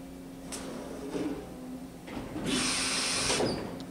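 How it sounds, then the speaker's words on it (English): The automatic tool changer on a Daewoo horizontal machining center with aluminum tool pockets swaps tools: mechanical clunks and slides, then a loud hissing rush of air about a second long, in a workshop hum. "ATC, automatic tool changer, and the tool changer, matter of fact, has all aluminum tool pockets."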